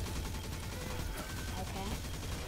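Rapid automatic fire from the Huckleberry submachine gun in the video game Destiny 2, a dense continuous burst of shots with game effects layered on top, fairly loud and unbroken.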